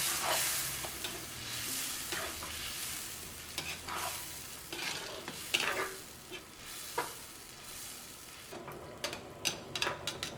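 Crushed mustard is stirred into mango kichadi in a pan, a close, steady scraping and stirring with soft sizzling underneath and sharper spoon clinks toward the end.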